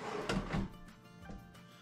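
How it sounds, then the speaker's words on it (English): Workbench drawers slide open and shut in a few brief wooden knocks and scrapes, close and moderately quiet, with no talking. "So now when we open the drawer,"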